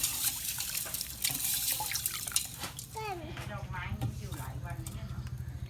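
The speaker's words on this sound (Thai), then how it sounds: "แล้วก็ใส่เกลือเม็ดลงไป คนให้ละลายก่อน" Rock salt is stirred into plain water to dissolve, with gentle close sloshing and trickling while someone talks over it.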